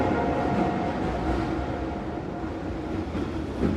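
A video-game train riding on rails gives a steady low rumble and clatter, loud and continuous throughout, with no voices.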